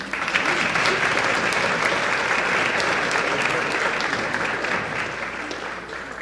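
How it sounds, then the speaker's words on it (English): Sustained round of applause from a school district board meeting audience, dense and steady for several seconds before easing slightly near the end. "let's give everybody a big round of applause again"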